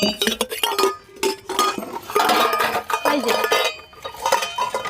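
A metal tasla basin and utensils clatter and clink in a home setting, with repeated bursts of ringing metallic knocks and scrapes over several seconds, plus occasional voices in the background.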